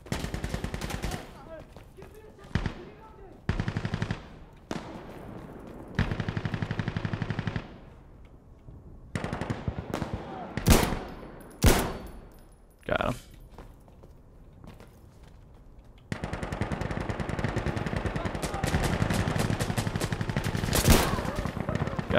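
Gunfire in the video game Insurgency Sandstorm crackles in repeated bursts of rapid shots and single cracks, with footsteps and thuds between volleys and loud sustained firing near the end.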